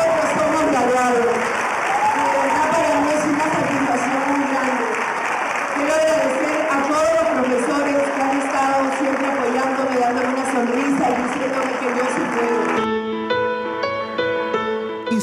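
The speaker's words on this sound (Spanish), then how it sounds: "Vamos a aplaudirnos y aplaudirnos muchas veces" Applause from a studio audience at a graduation celebration segment of a Spanish-language TV program, steady dense clapping for most of the stretch with voices and music rising beneath it, ending in a short musical sting.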